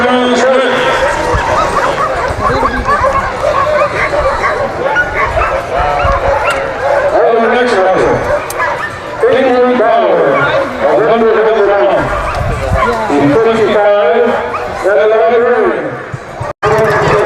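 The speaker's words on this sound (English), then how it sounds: "The last step will be to hook up the dogs, getting them ready." Sled dogs being hooked up before the start of the Can-Am 100-mile race bark, yip and whimper continuously in an excited chorus, loud and close, with people talking among the noise.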